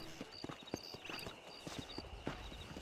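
Horse hooves clip-clopping on the ground in Red Dead Redemption, a quick steady rhythm of soft thuds, faint and continuous for about three seconds.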